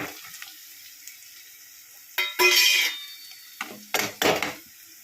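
Ginger garlic paste, curry leaves, turmeric and salt frying in a pan of tempering for ridge gourd moong dal, giving quiet sizzling and stirring with a few louder bursts of spattering and scraping midway and near the end.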